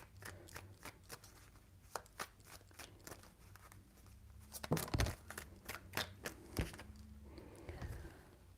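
Tarot cards are shuffled in three rounds, giving soft, quiet riffling bursts and crisp taps that come in irregular clusters, with a louder flurry near the middle and no talking.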